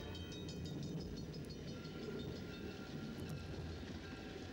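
A train rumbles steadily past at a village, a continuous low roar of rolling wheels and carriages with faint high squeals, heard from a moderate distance without voices.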